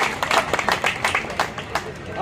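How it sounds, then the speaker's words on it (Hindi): Loud applause welcoming local leader Surender Kaushik at an outdoor village gathering in Dhadhot, Mahendergarh, with dense overlapping claps from a crowd continuing steadily throughout. "एक बार जोरदार तालियां बजाकर स्वागत कीजिए।"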